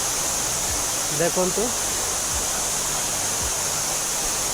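The Shrashamliu waterfall gives a steady, loud broadband rush of falling water that fills the whole scene, while a person speaks briefly over it.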